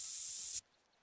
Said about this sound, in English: put on more scent spray